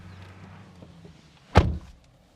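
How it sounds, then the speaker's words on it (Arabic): A car door on a 2020 Nissan Altima thumps shut in a single solid slam, close and loud against a quiet cabin, followed by a brief fading rattle. "نقفل الباب."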